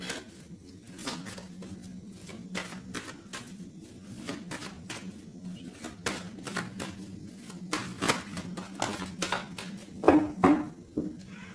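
A tarot card deck is cut and shuffled by hand, producing a series of sharp papery slaps and riffles in irregular bursts, close and fairly loud, with a louder cluster near the end.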